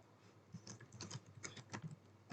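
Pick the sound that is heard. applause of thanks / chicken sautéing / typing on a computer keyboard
typing on a computer keyboard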